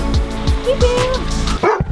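A dog barks close by in a dark room, several sharp barks at a steady rhythm followed by a brief higher yelp, loud and alone.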